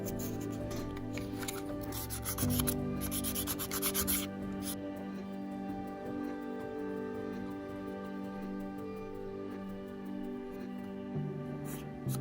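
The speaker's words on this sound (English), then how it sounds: "So what you're gonna do next is get your file and get the sides first." A nail file rubs back and forth along the sides of a fingernail, giving a steady, close scratching that continues through the whole stretch over a faint tonal background.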